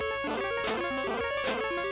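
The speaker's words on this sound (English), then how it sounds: "The second alarm sounds like this," Second, more urgent danger alarm from the NES game Pro Wrestling: a busy looping chiptune warning of rapid electronic beeps and buzzy bursts that repeats twice, steady and alone with no voices.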